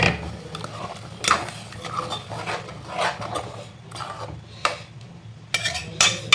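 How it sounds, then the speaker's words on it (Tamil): Rinse water from a mixer jar going into a cooking pot, then a spoon stirring and scraping against the metal with scattered clinks and knocks, close and steady, with no talking. "மிக்ஸி ஜார் கழுவி கொஞ்சம் தண்ணி ஊற்றுக்கணும், கொஞ்சமாக ஆட் பண்ணிக்கோங்க."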